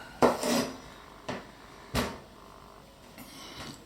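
A knife cuts through an aubergine on a board: three sharp, separate knocks of the blade hitting the board, a loud one first and two softer ones, then a faint tap in a quiet kitchen.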